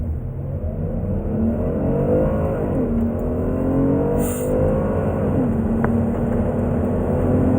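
A Hyundai Grandeur IG 3.0 accelerating hard in a test run, its engine note climbing steadily, dropping briefly at two gear shifts and climbing again, loud and continuous inside the car.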